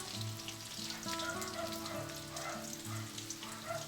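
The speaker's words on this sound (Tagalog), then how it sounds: "Ipiprito lang natin." Chicken pieces fry in a pan, a soft, steady sizzle and crackle that continues quietly throughout with a faint tonal hum underneath.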